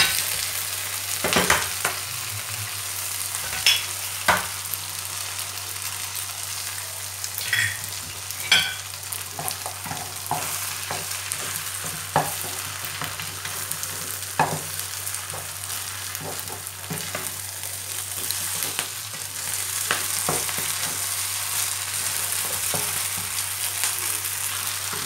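Wide rice noodles with chicken and egg stir-fried in a pan, a steady low sizzle broken by frequent scraping and clacking strokes of a spatula, close up and continuing for a long stretch without speech.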